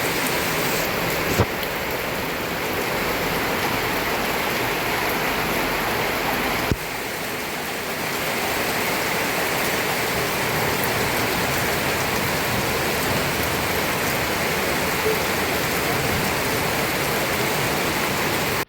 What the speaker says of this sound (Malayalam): രാത്രി വന്ന മഴയാണ് കേട്ടോ. നല്ല തകർപ്പ മഴയായിരുന്നു.